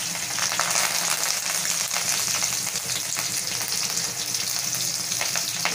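Chopped onion and curry leaves fry in hot oil, a loud, dense, crackling sizzle that runs continuously from start to finish with faint stirring underneath.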